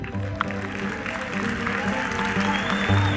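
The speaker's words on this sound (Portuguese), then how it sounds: "uma salva de palmas para o Flávio Bolsonaro" A crowd at a religious-political gathering in Brazil applauds Flávio Bolsonaro with a brief burst of clapping mixed with crowd noise and some tonal sound underneath.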